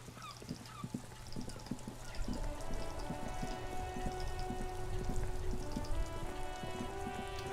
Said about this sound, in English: Is it always raining?